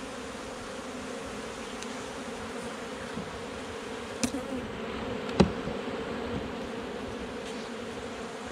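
Bees buzz at a hive among drawn comb and pollen as queens are being raised, a steady close insect hum running throughout with a couple of brief louder passes.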